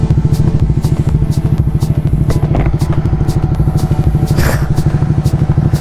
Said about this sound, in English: the rumble of the Ducati